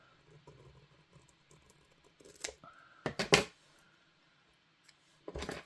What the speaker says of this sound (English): I'm going to cut that one off as well